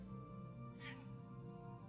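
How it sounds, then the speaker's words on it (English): A little kitten meows once, a short, thin, high cry near the middle against a quiet indoor hum, close to the listener and with no speech over it. "We have our beloved little kitten here."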